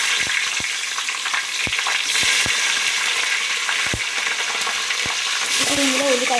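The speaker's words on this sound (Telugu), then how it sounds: "ఇప్పుడు ఆయిల్లోకి పచ్చిమిర్చిని అయితే యాడ్ చేస్తున్నానండి." Whole uncut green chillies hit hot oil in a pan, setting off a steady, close sizzle and bubbling with several sharp pops and spatters scattered throughout, and a faint voice near the end.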